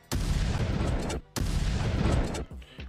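A shotgun fires in the Roblox game Da Hood, with two sharp, loud blasts about a second apart, each followed by a short rattling tail and then a brief mechanical clatter at the end.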